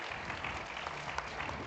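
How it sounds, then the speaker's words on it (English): Audience applause for a panel at the close of a financial inclusion discussion event, steady moderately quiet clapping sustained throughout with no voices on top. "Please, let's give a round of applause to our panelists."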